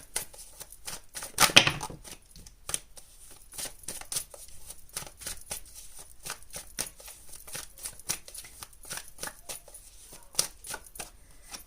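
Tarot cards being shuffled by hand, a quiet run of rapid papery taps and riffles with one louder burst early on, no speech.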